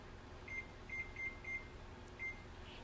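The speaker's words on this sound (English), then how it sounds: "I'm going to set my timer here, if I can find it." A kitchen timer is set while a Dutch baby cooks in the oven, giving a string of short, high electronic beeps in uneven pairs and singles, faint against a quiet room hum.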